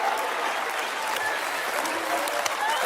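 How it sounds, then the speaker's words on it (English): A studio audience breaks into dense, steady applause, a continuous loud wash of many hands clapping with no gaps from start to finish. "What are y'all clapping for?"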